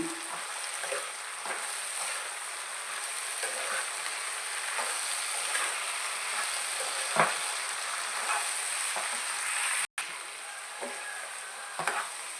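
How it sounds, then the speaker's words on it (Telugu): Eggplant and broad beans cook in a pan with chili and turmeric, hissing in a constant sizzle while a spoon stirs through them with soft periodic scrapes and one sharper knock near the end. "కారం పసుపు వేసుకుందాం అది కలుపుకున్నాము"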